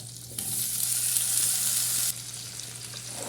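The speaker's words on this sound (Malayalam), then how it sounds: "നമുക്കിതിലേക്ക് പനീർ ഇട്ട് കൊടുത്തിട്ട് ഒന്ന് ചെറുതായിട്ടൊന്ന് ഫ്രൈ ചെയ്തെടുക്കുക" Paneer frying in butter in a pan gives a steady, bright sizzling hiss that swells suddenly, holds for a couple of seconds, then drops back to a quieter fry.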